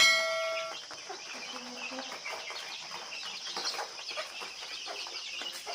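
Flock of farm chicks about 20 to 22 days old chirping and peeping continuously, a busy layered chatter of many small birds nearby, with a brief hen cluck and a faint voice at the start.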